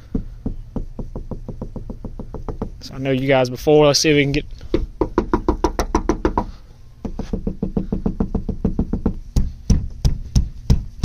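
Car door panel in a Honda treated with sound deadener, struck repeatedly by hand in fast dull thuds, close and steady, with someone talking briefly in the middle.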